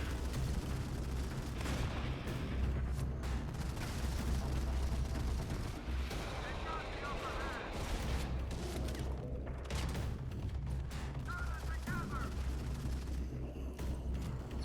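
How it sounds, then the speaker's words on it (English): Gunfire from teammates in the mobile shooter Modern Combat 5, rapid shots and booming bursts spread through the scene at moderate loudness, with a player talking over it. "that's my team shooting at me"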